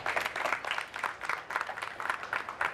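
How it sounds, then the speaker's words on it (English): Audience applause at a live power-line electrical safety demonstration in Iowa: a fairly faint, steady patter of many hands clapping with no voices. "Let's give them a big round of applause."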